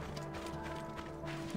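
Horse hooves clip-clop steadily in Assassin's Creed Origins as the mount works up a steep slope, a continuous rhythmic patter at moderate level over a droning game soundtrack.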